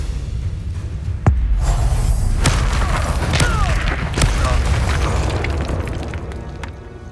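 Spell explosions boom in the video game Hogwarts Legacy, including the Confringo blast, with several sharp bangs and rumbling bursts over loud continuous combat noise.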